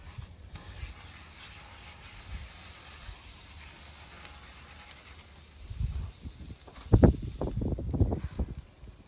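French toast cooks in fresh butter on a hot pan with a steady soft sizzle and hiss throughout, then louder irregular crackles and pops near the end as the butter spits.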